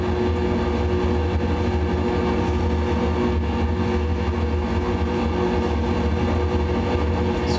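A loud, steady engine drone fills the cabin of a Zenith STOL light aircraft in flight, constant and unbroken throughout with no voices.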